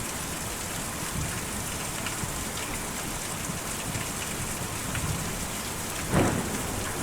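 Steady rain patters on a surface in the video game Kentucky Route Zero, with a brief rumble of thunder near the end; no voices are present.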